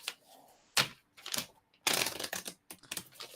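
Quick crisp riffling bursts of cards being shuffled, several short rattling runs close by with brief pauses between, no voices.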